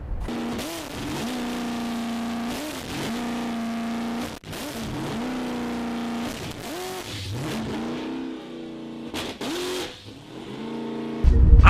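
A Nissan Skyline R34 drift car with a freshly installed engine revs repeatedly up close, the engine note climbing and falling in several loud bursts with brief dips between, ending in a harsh rising roar.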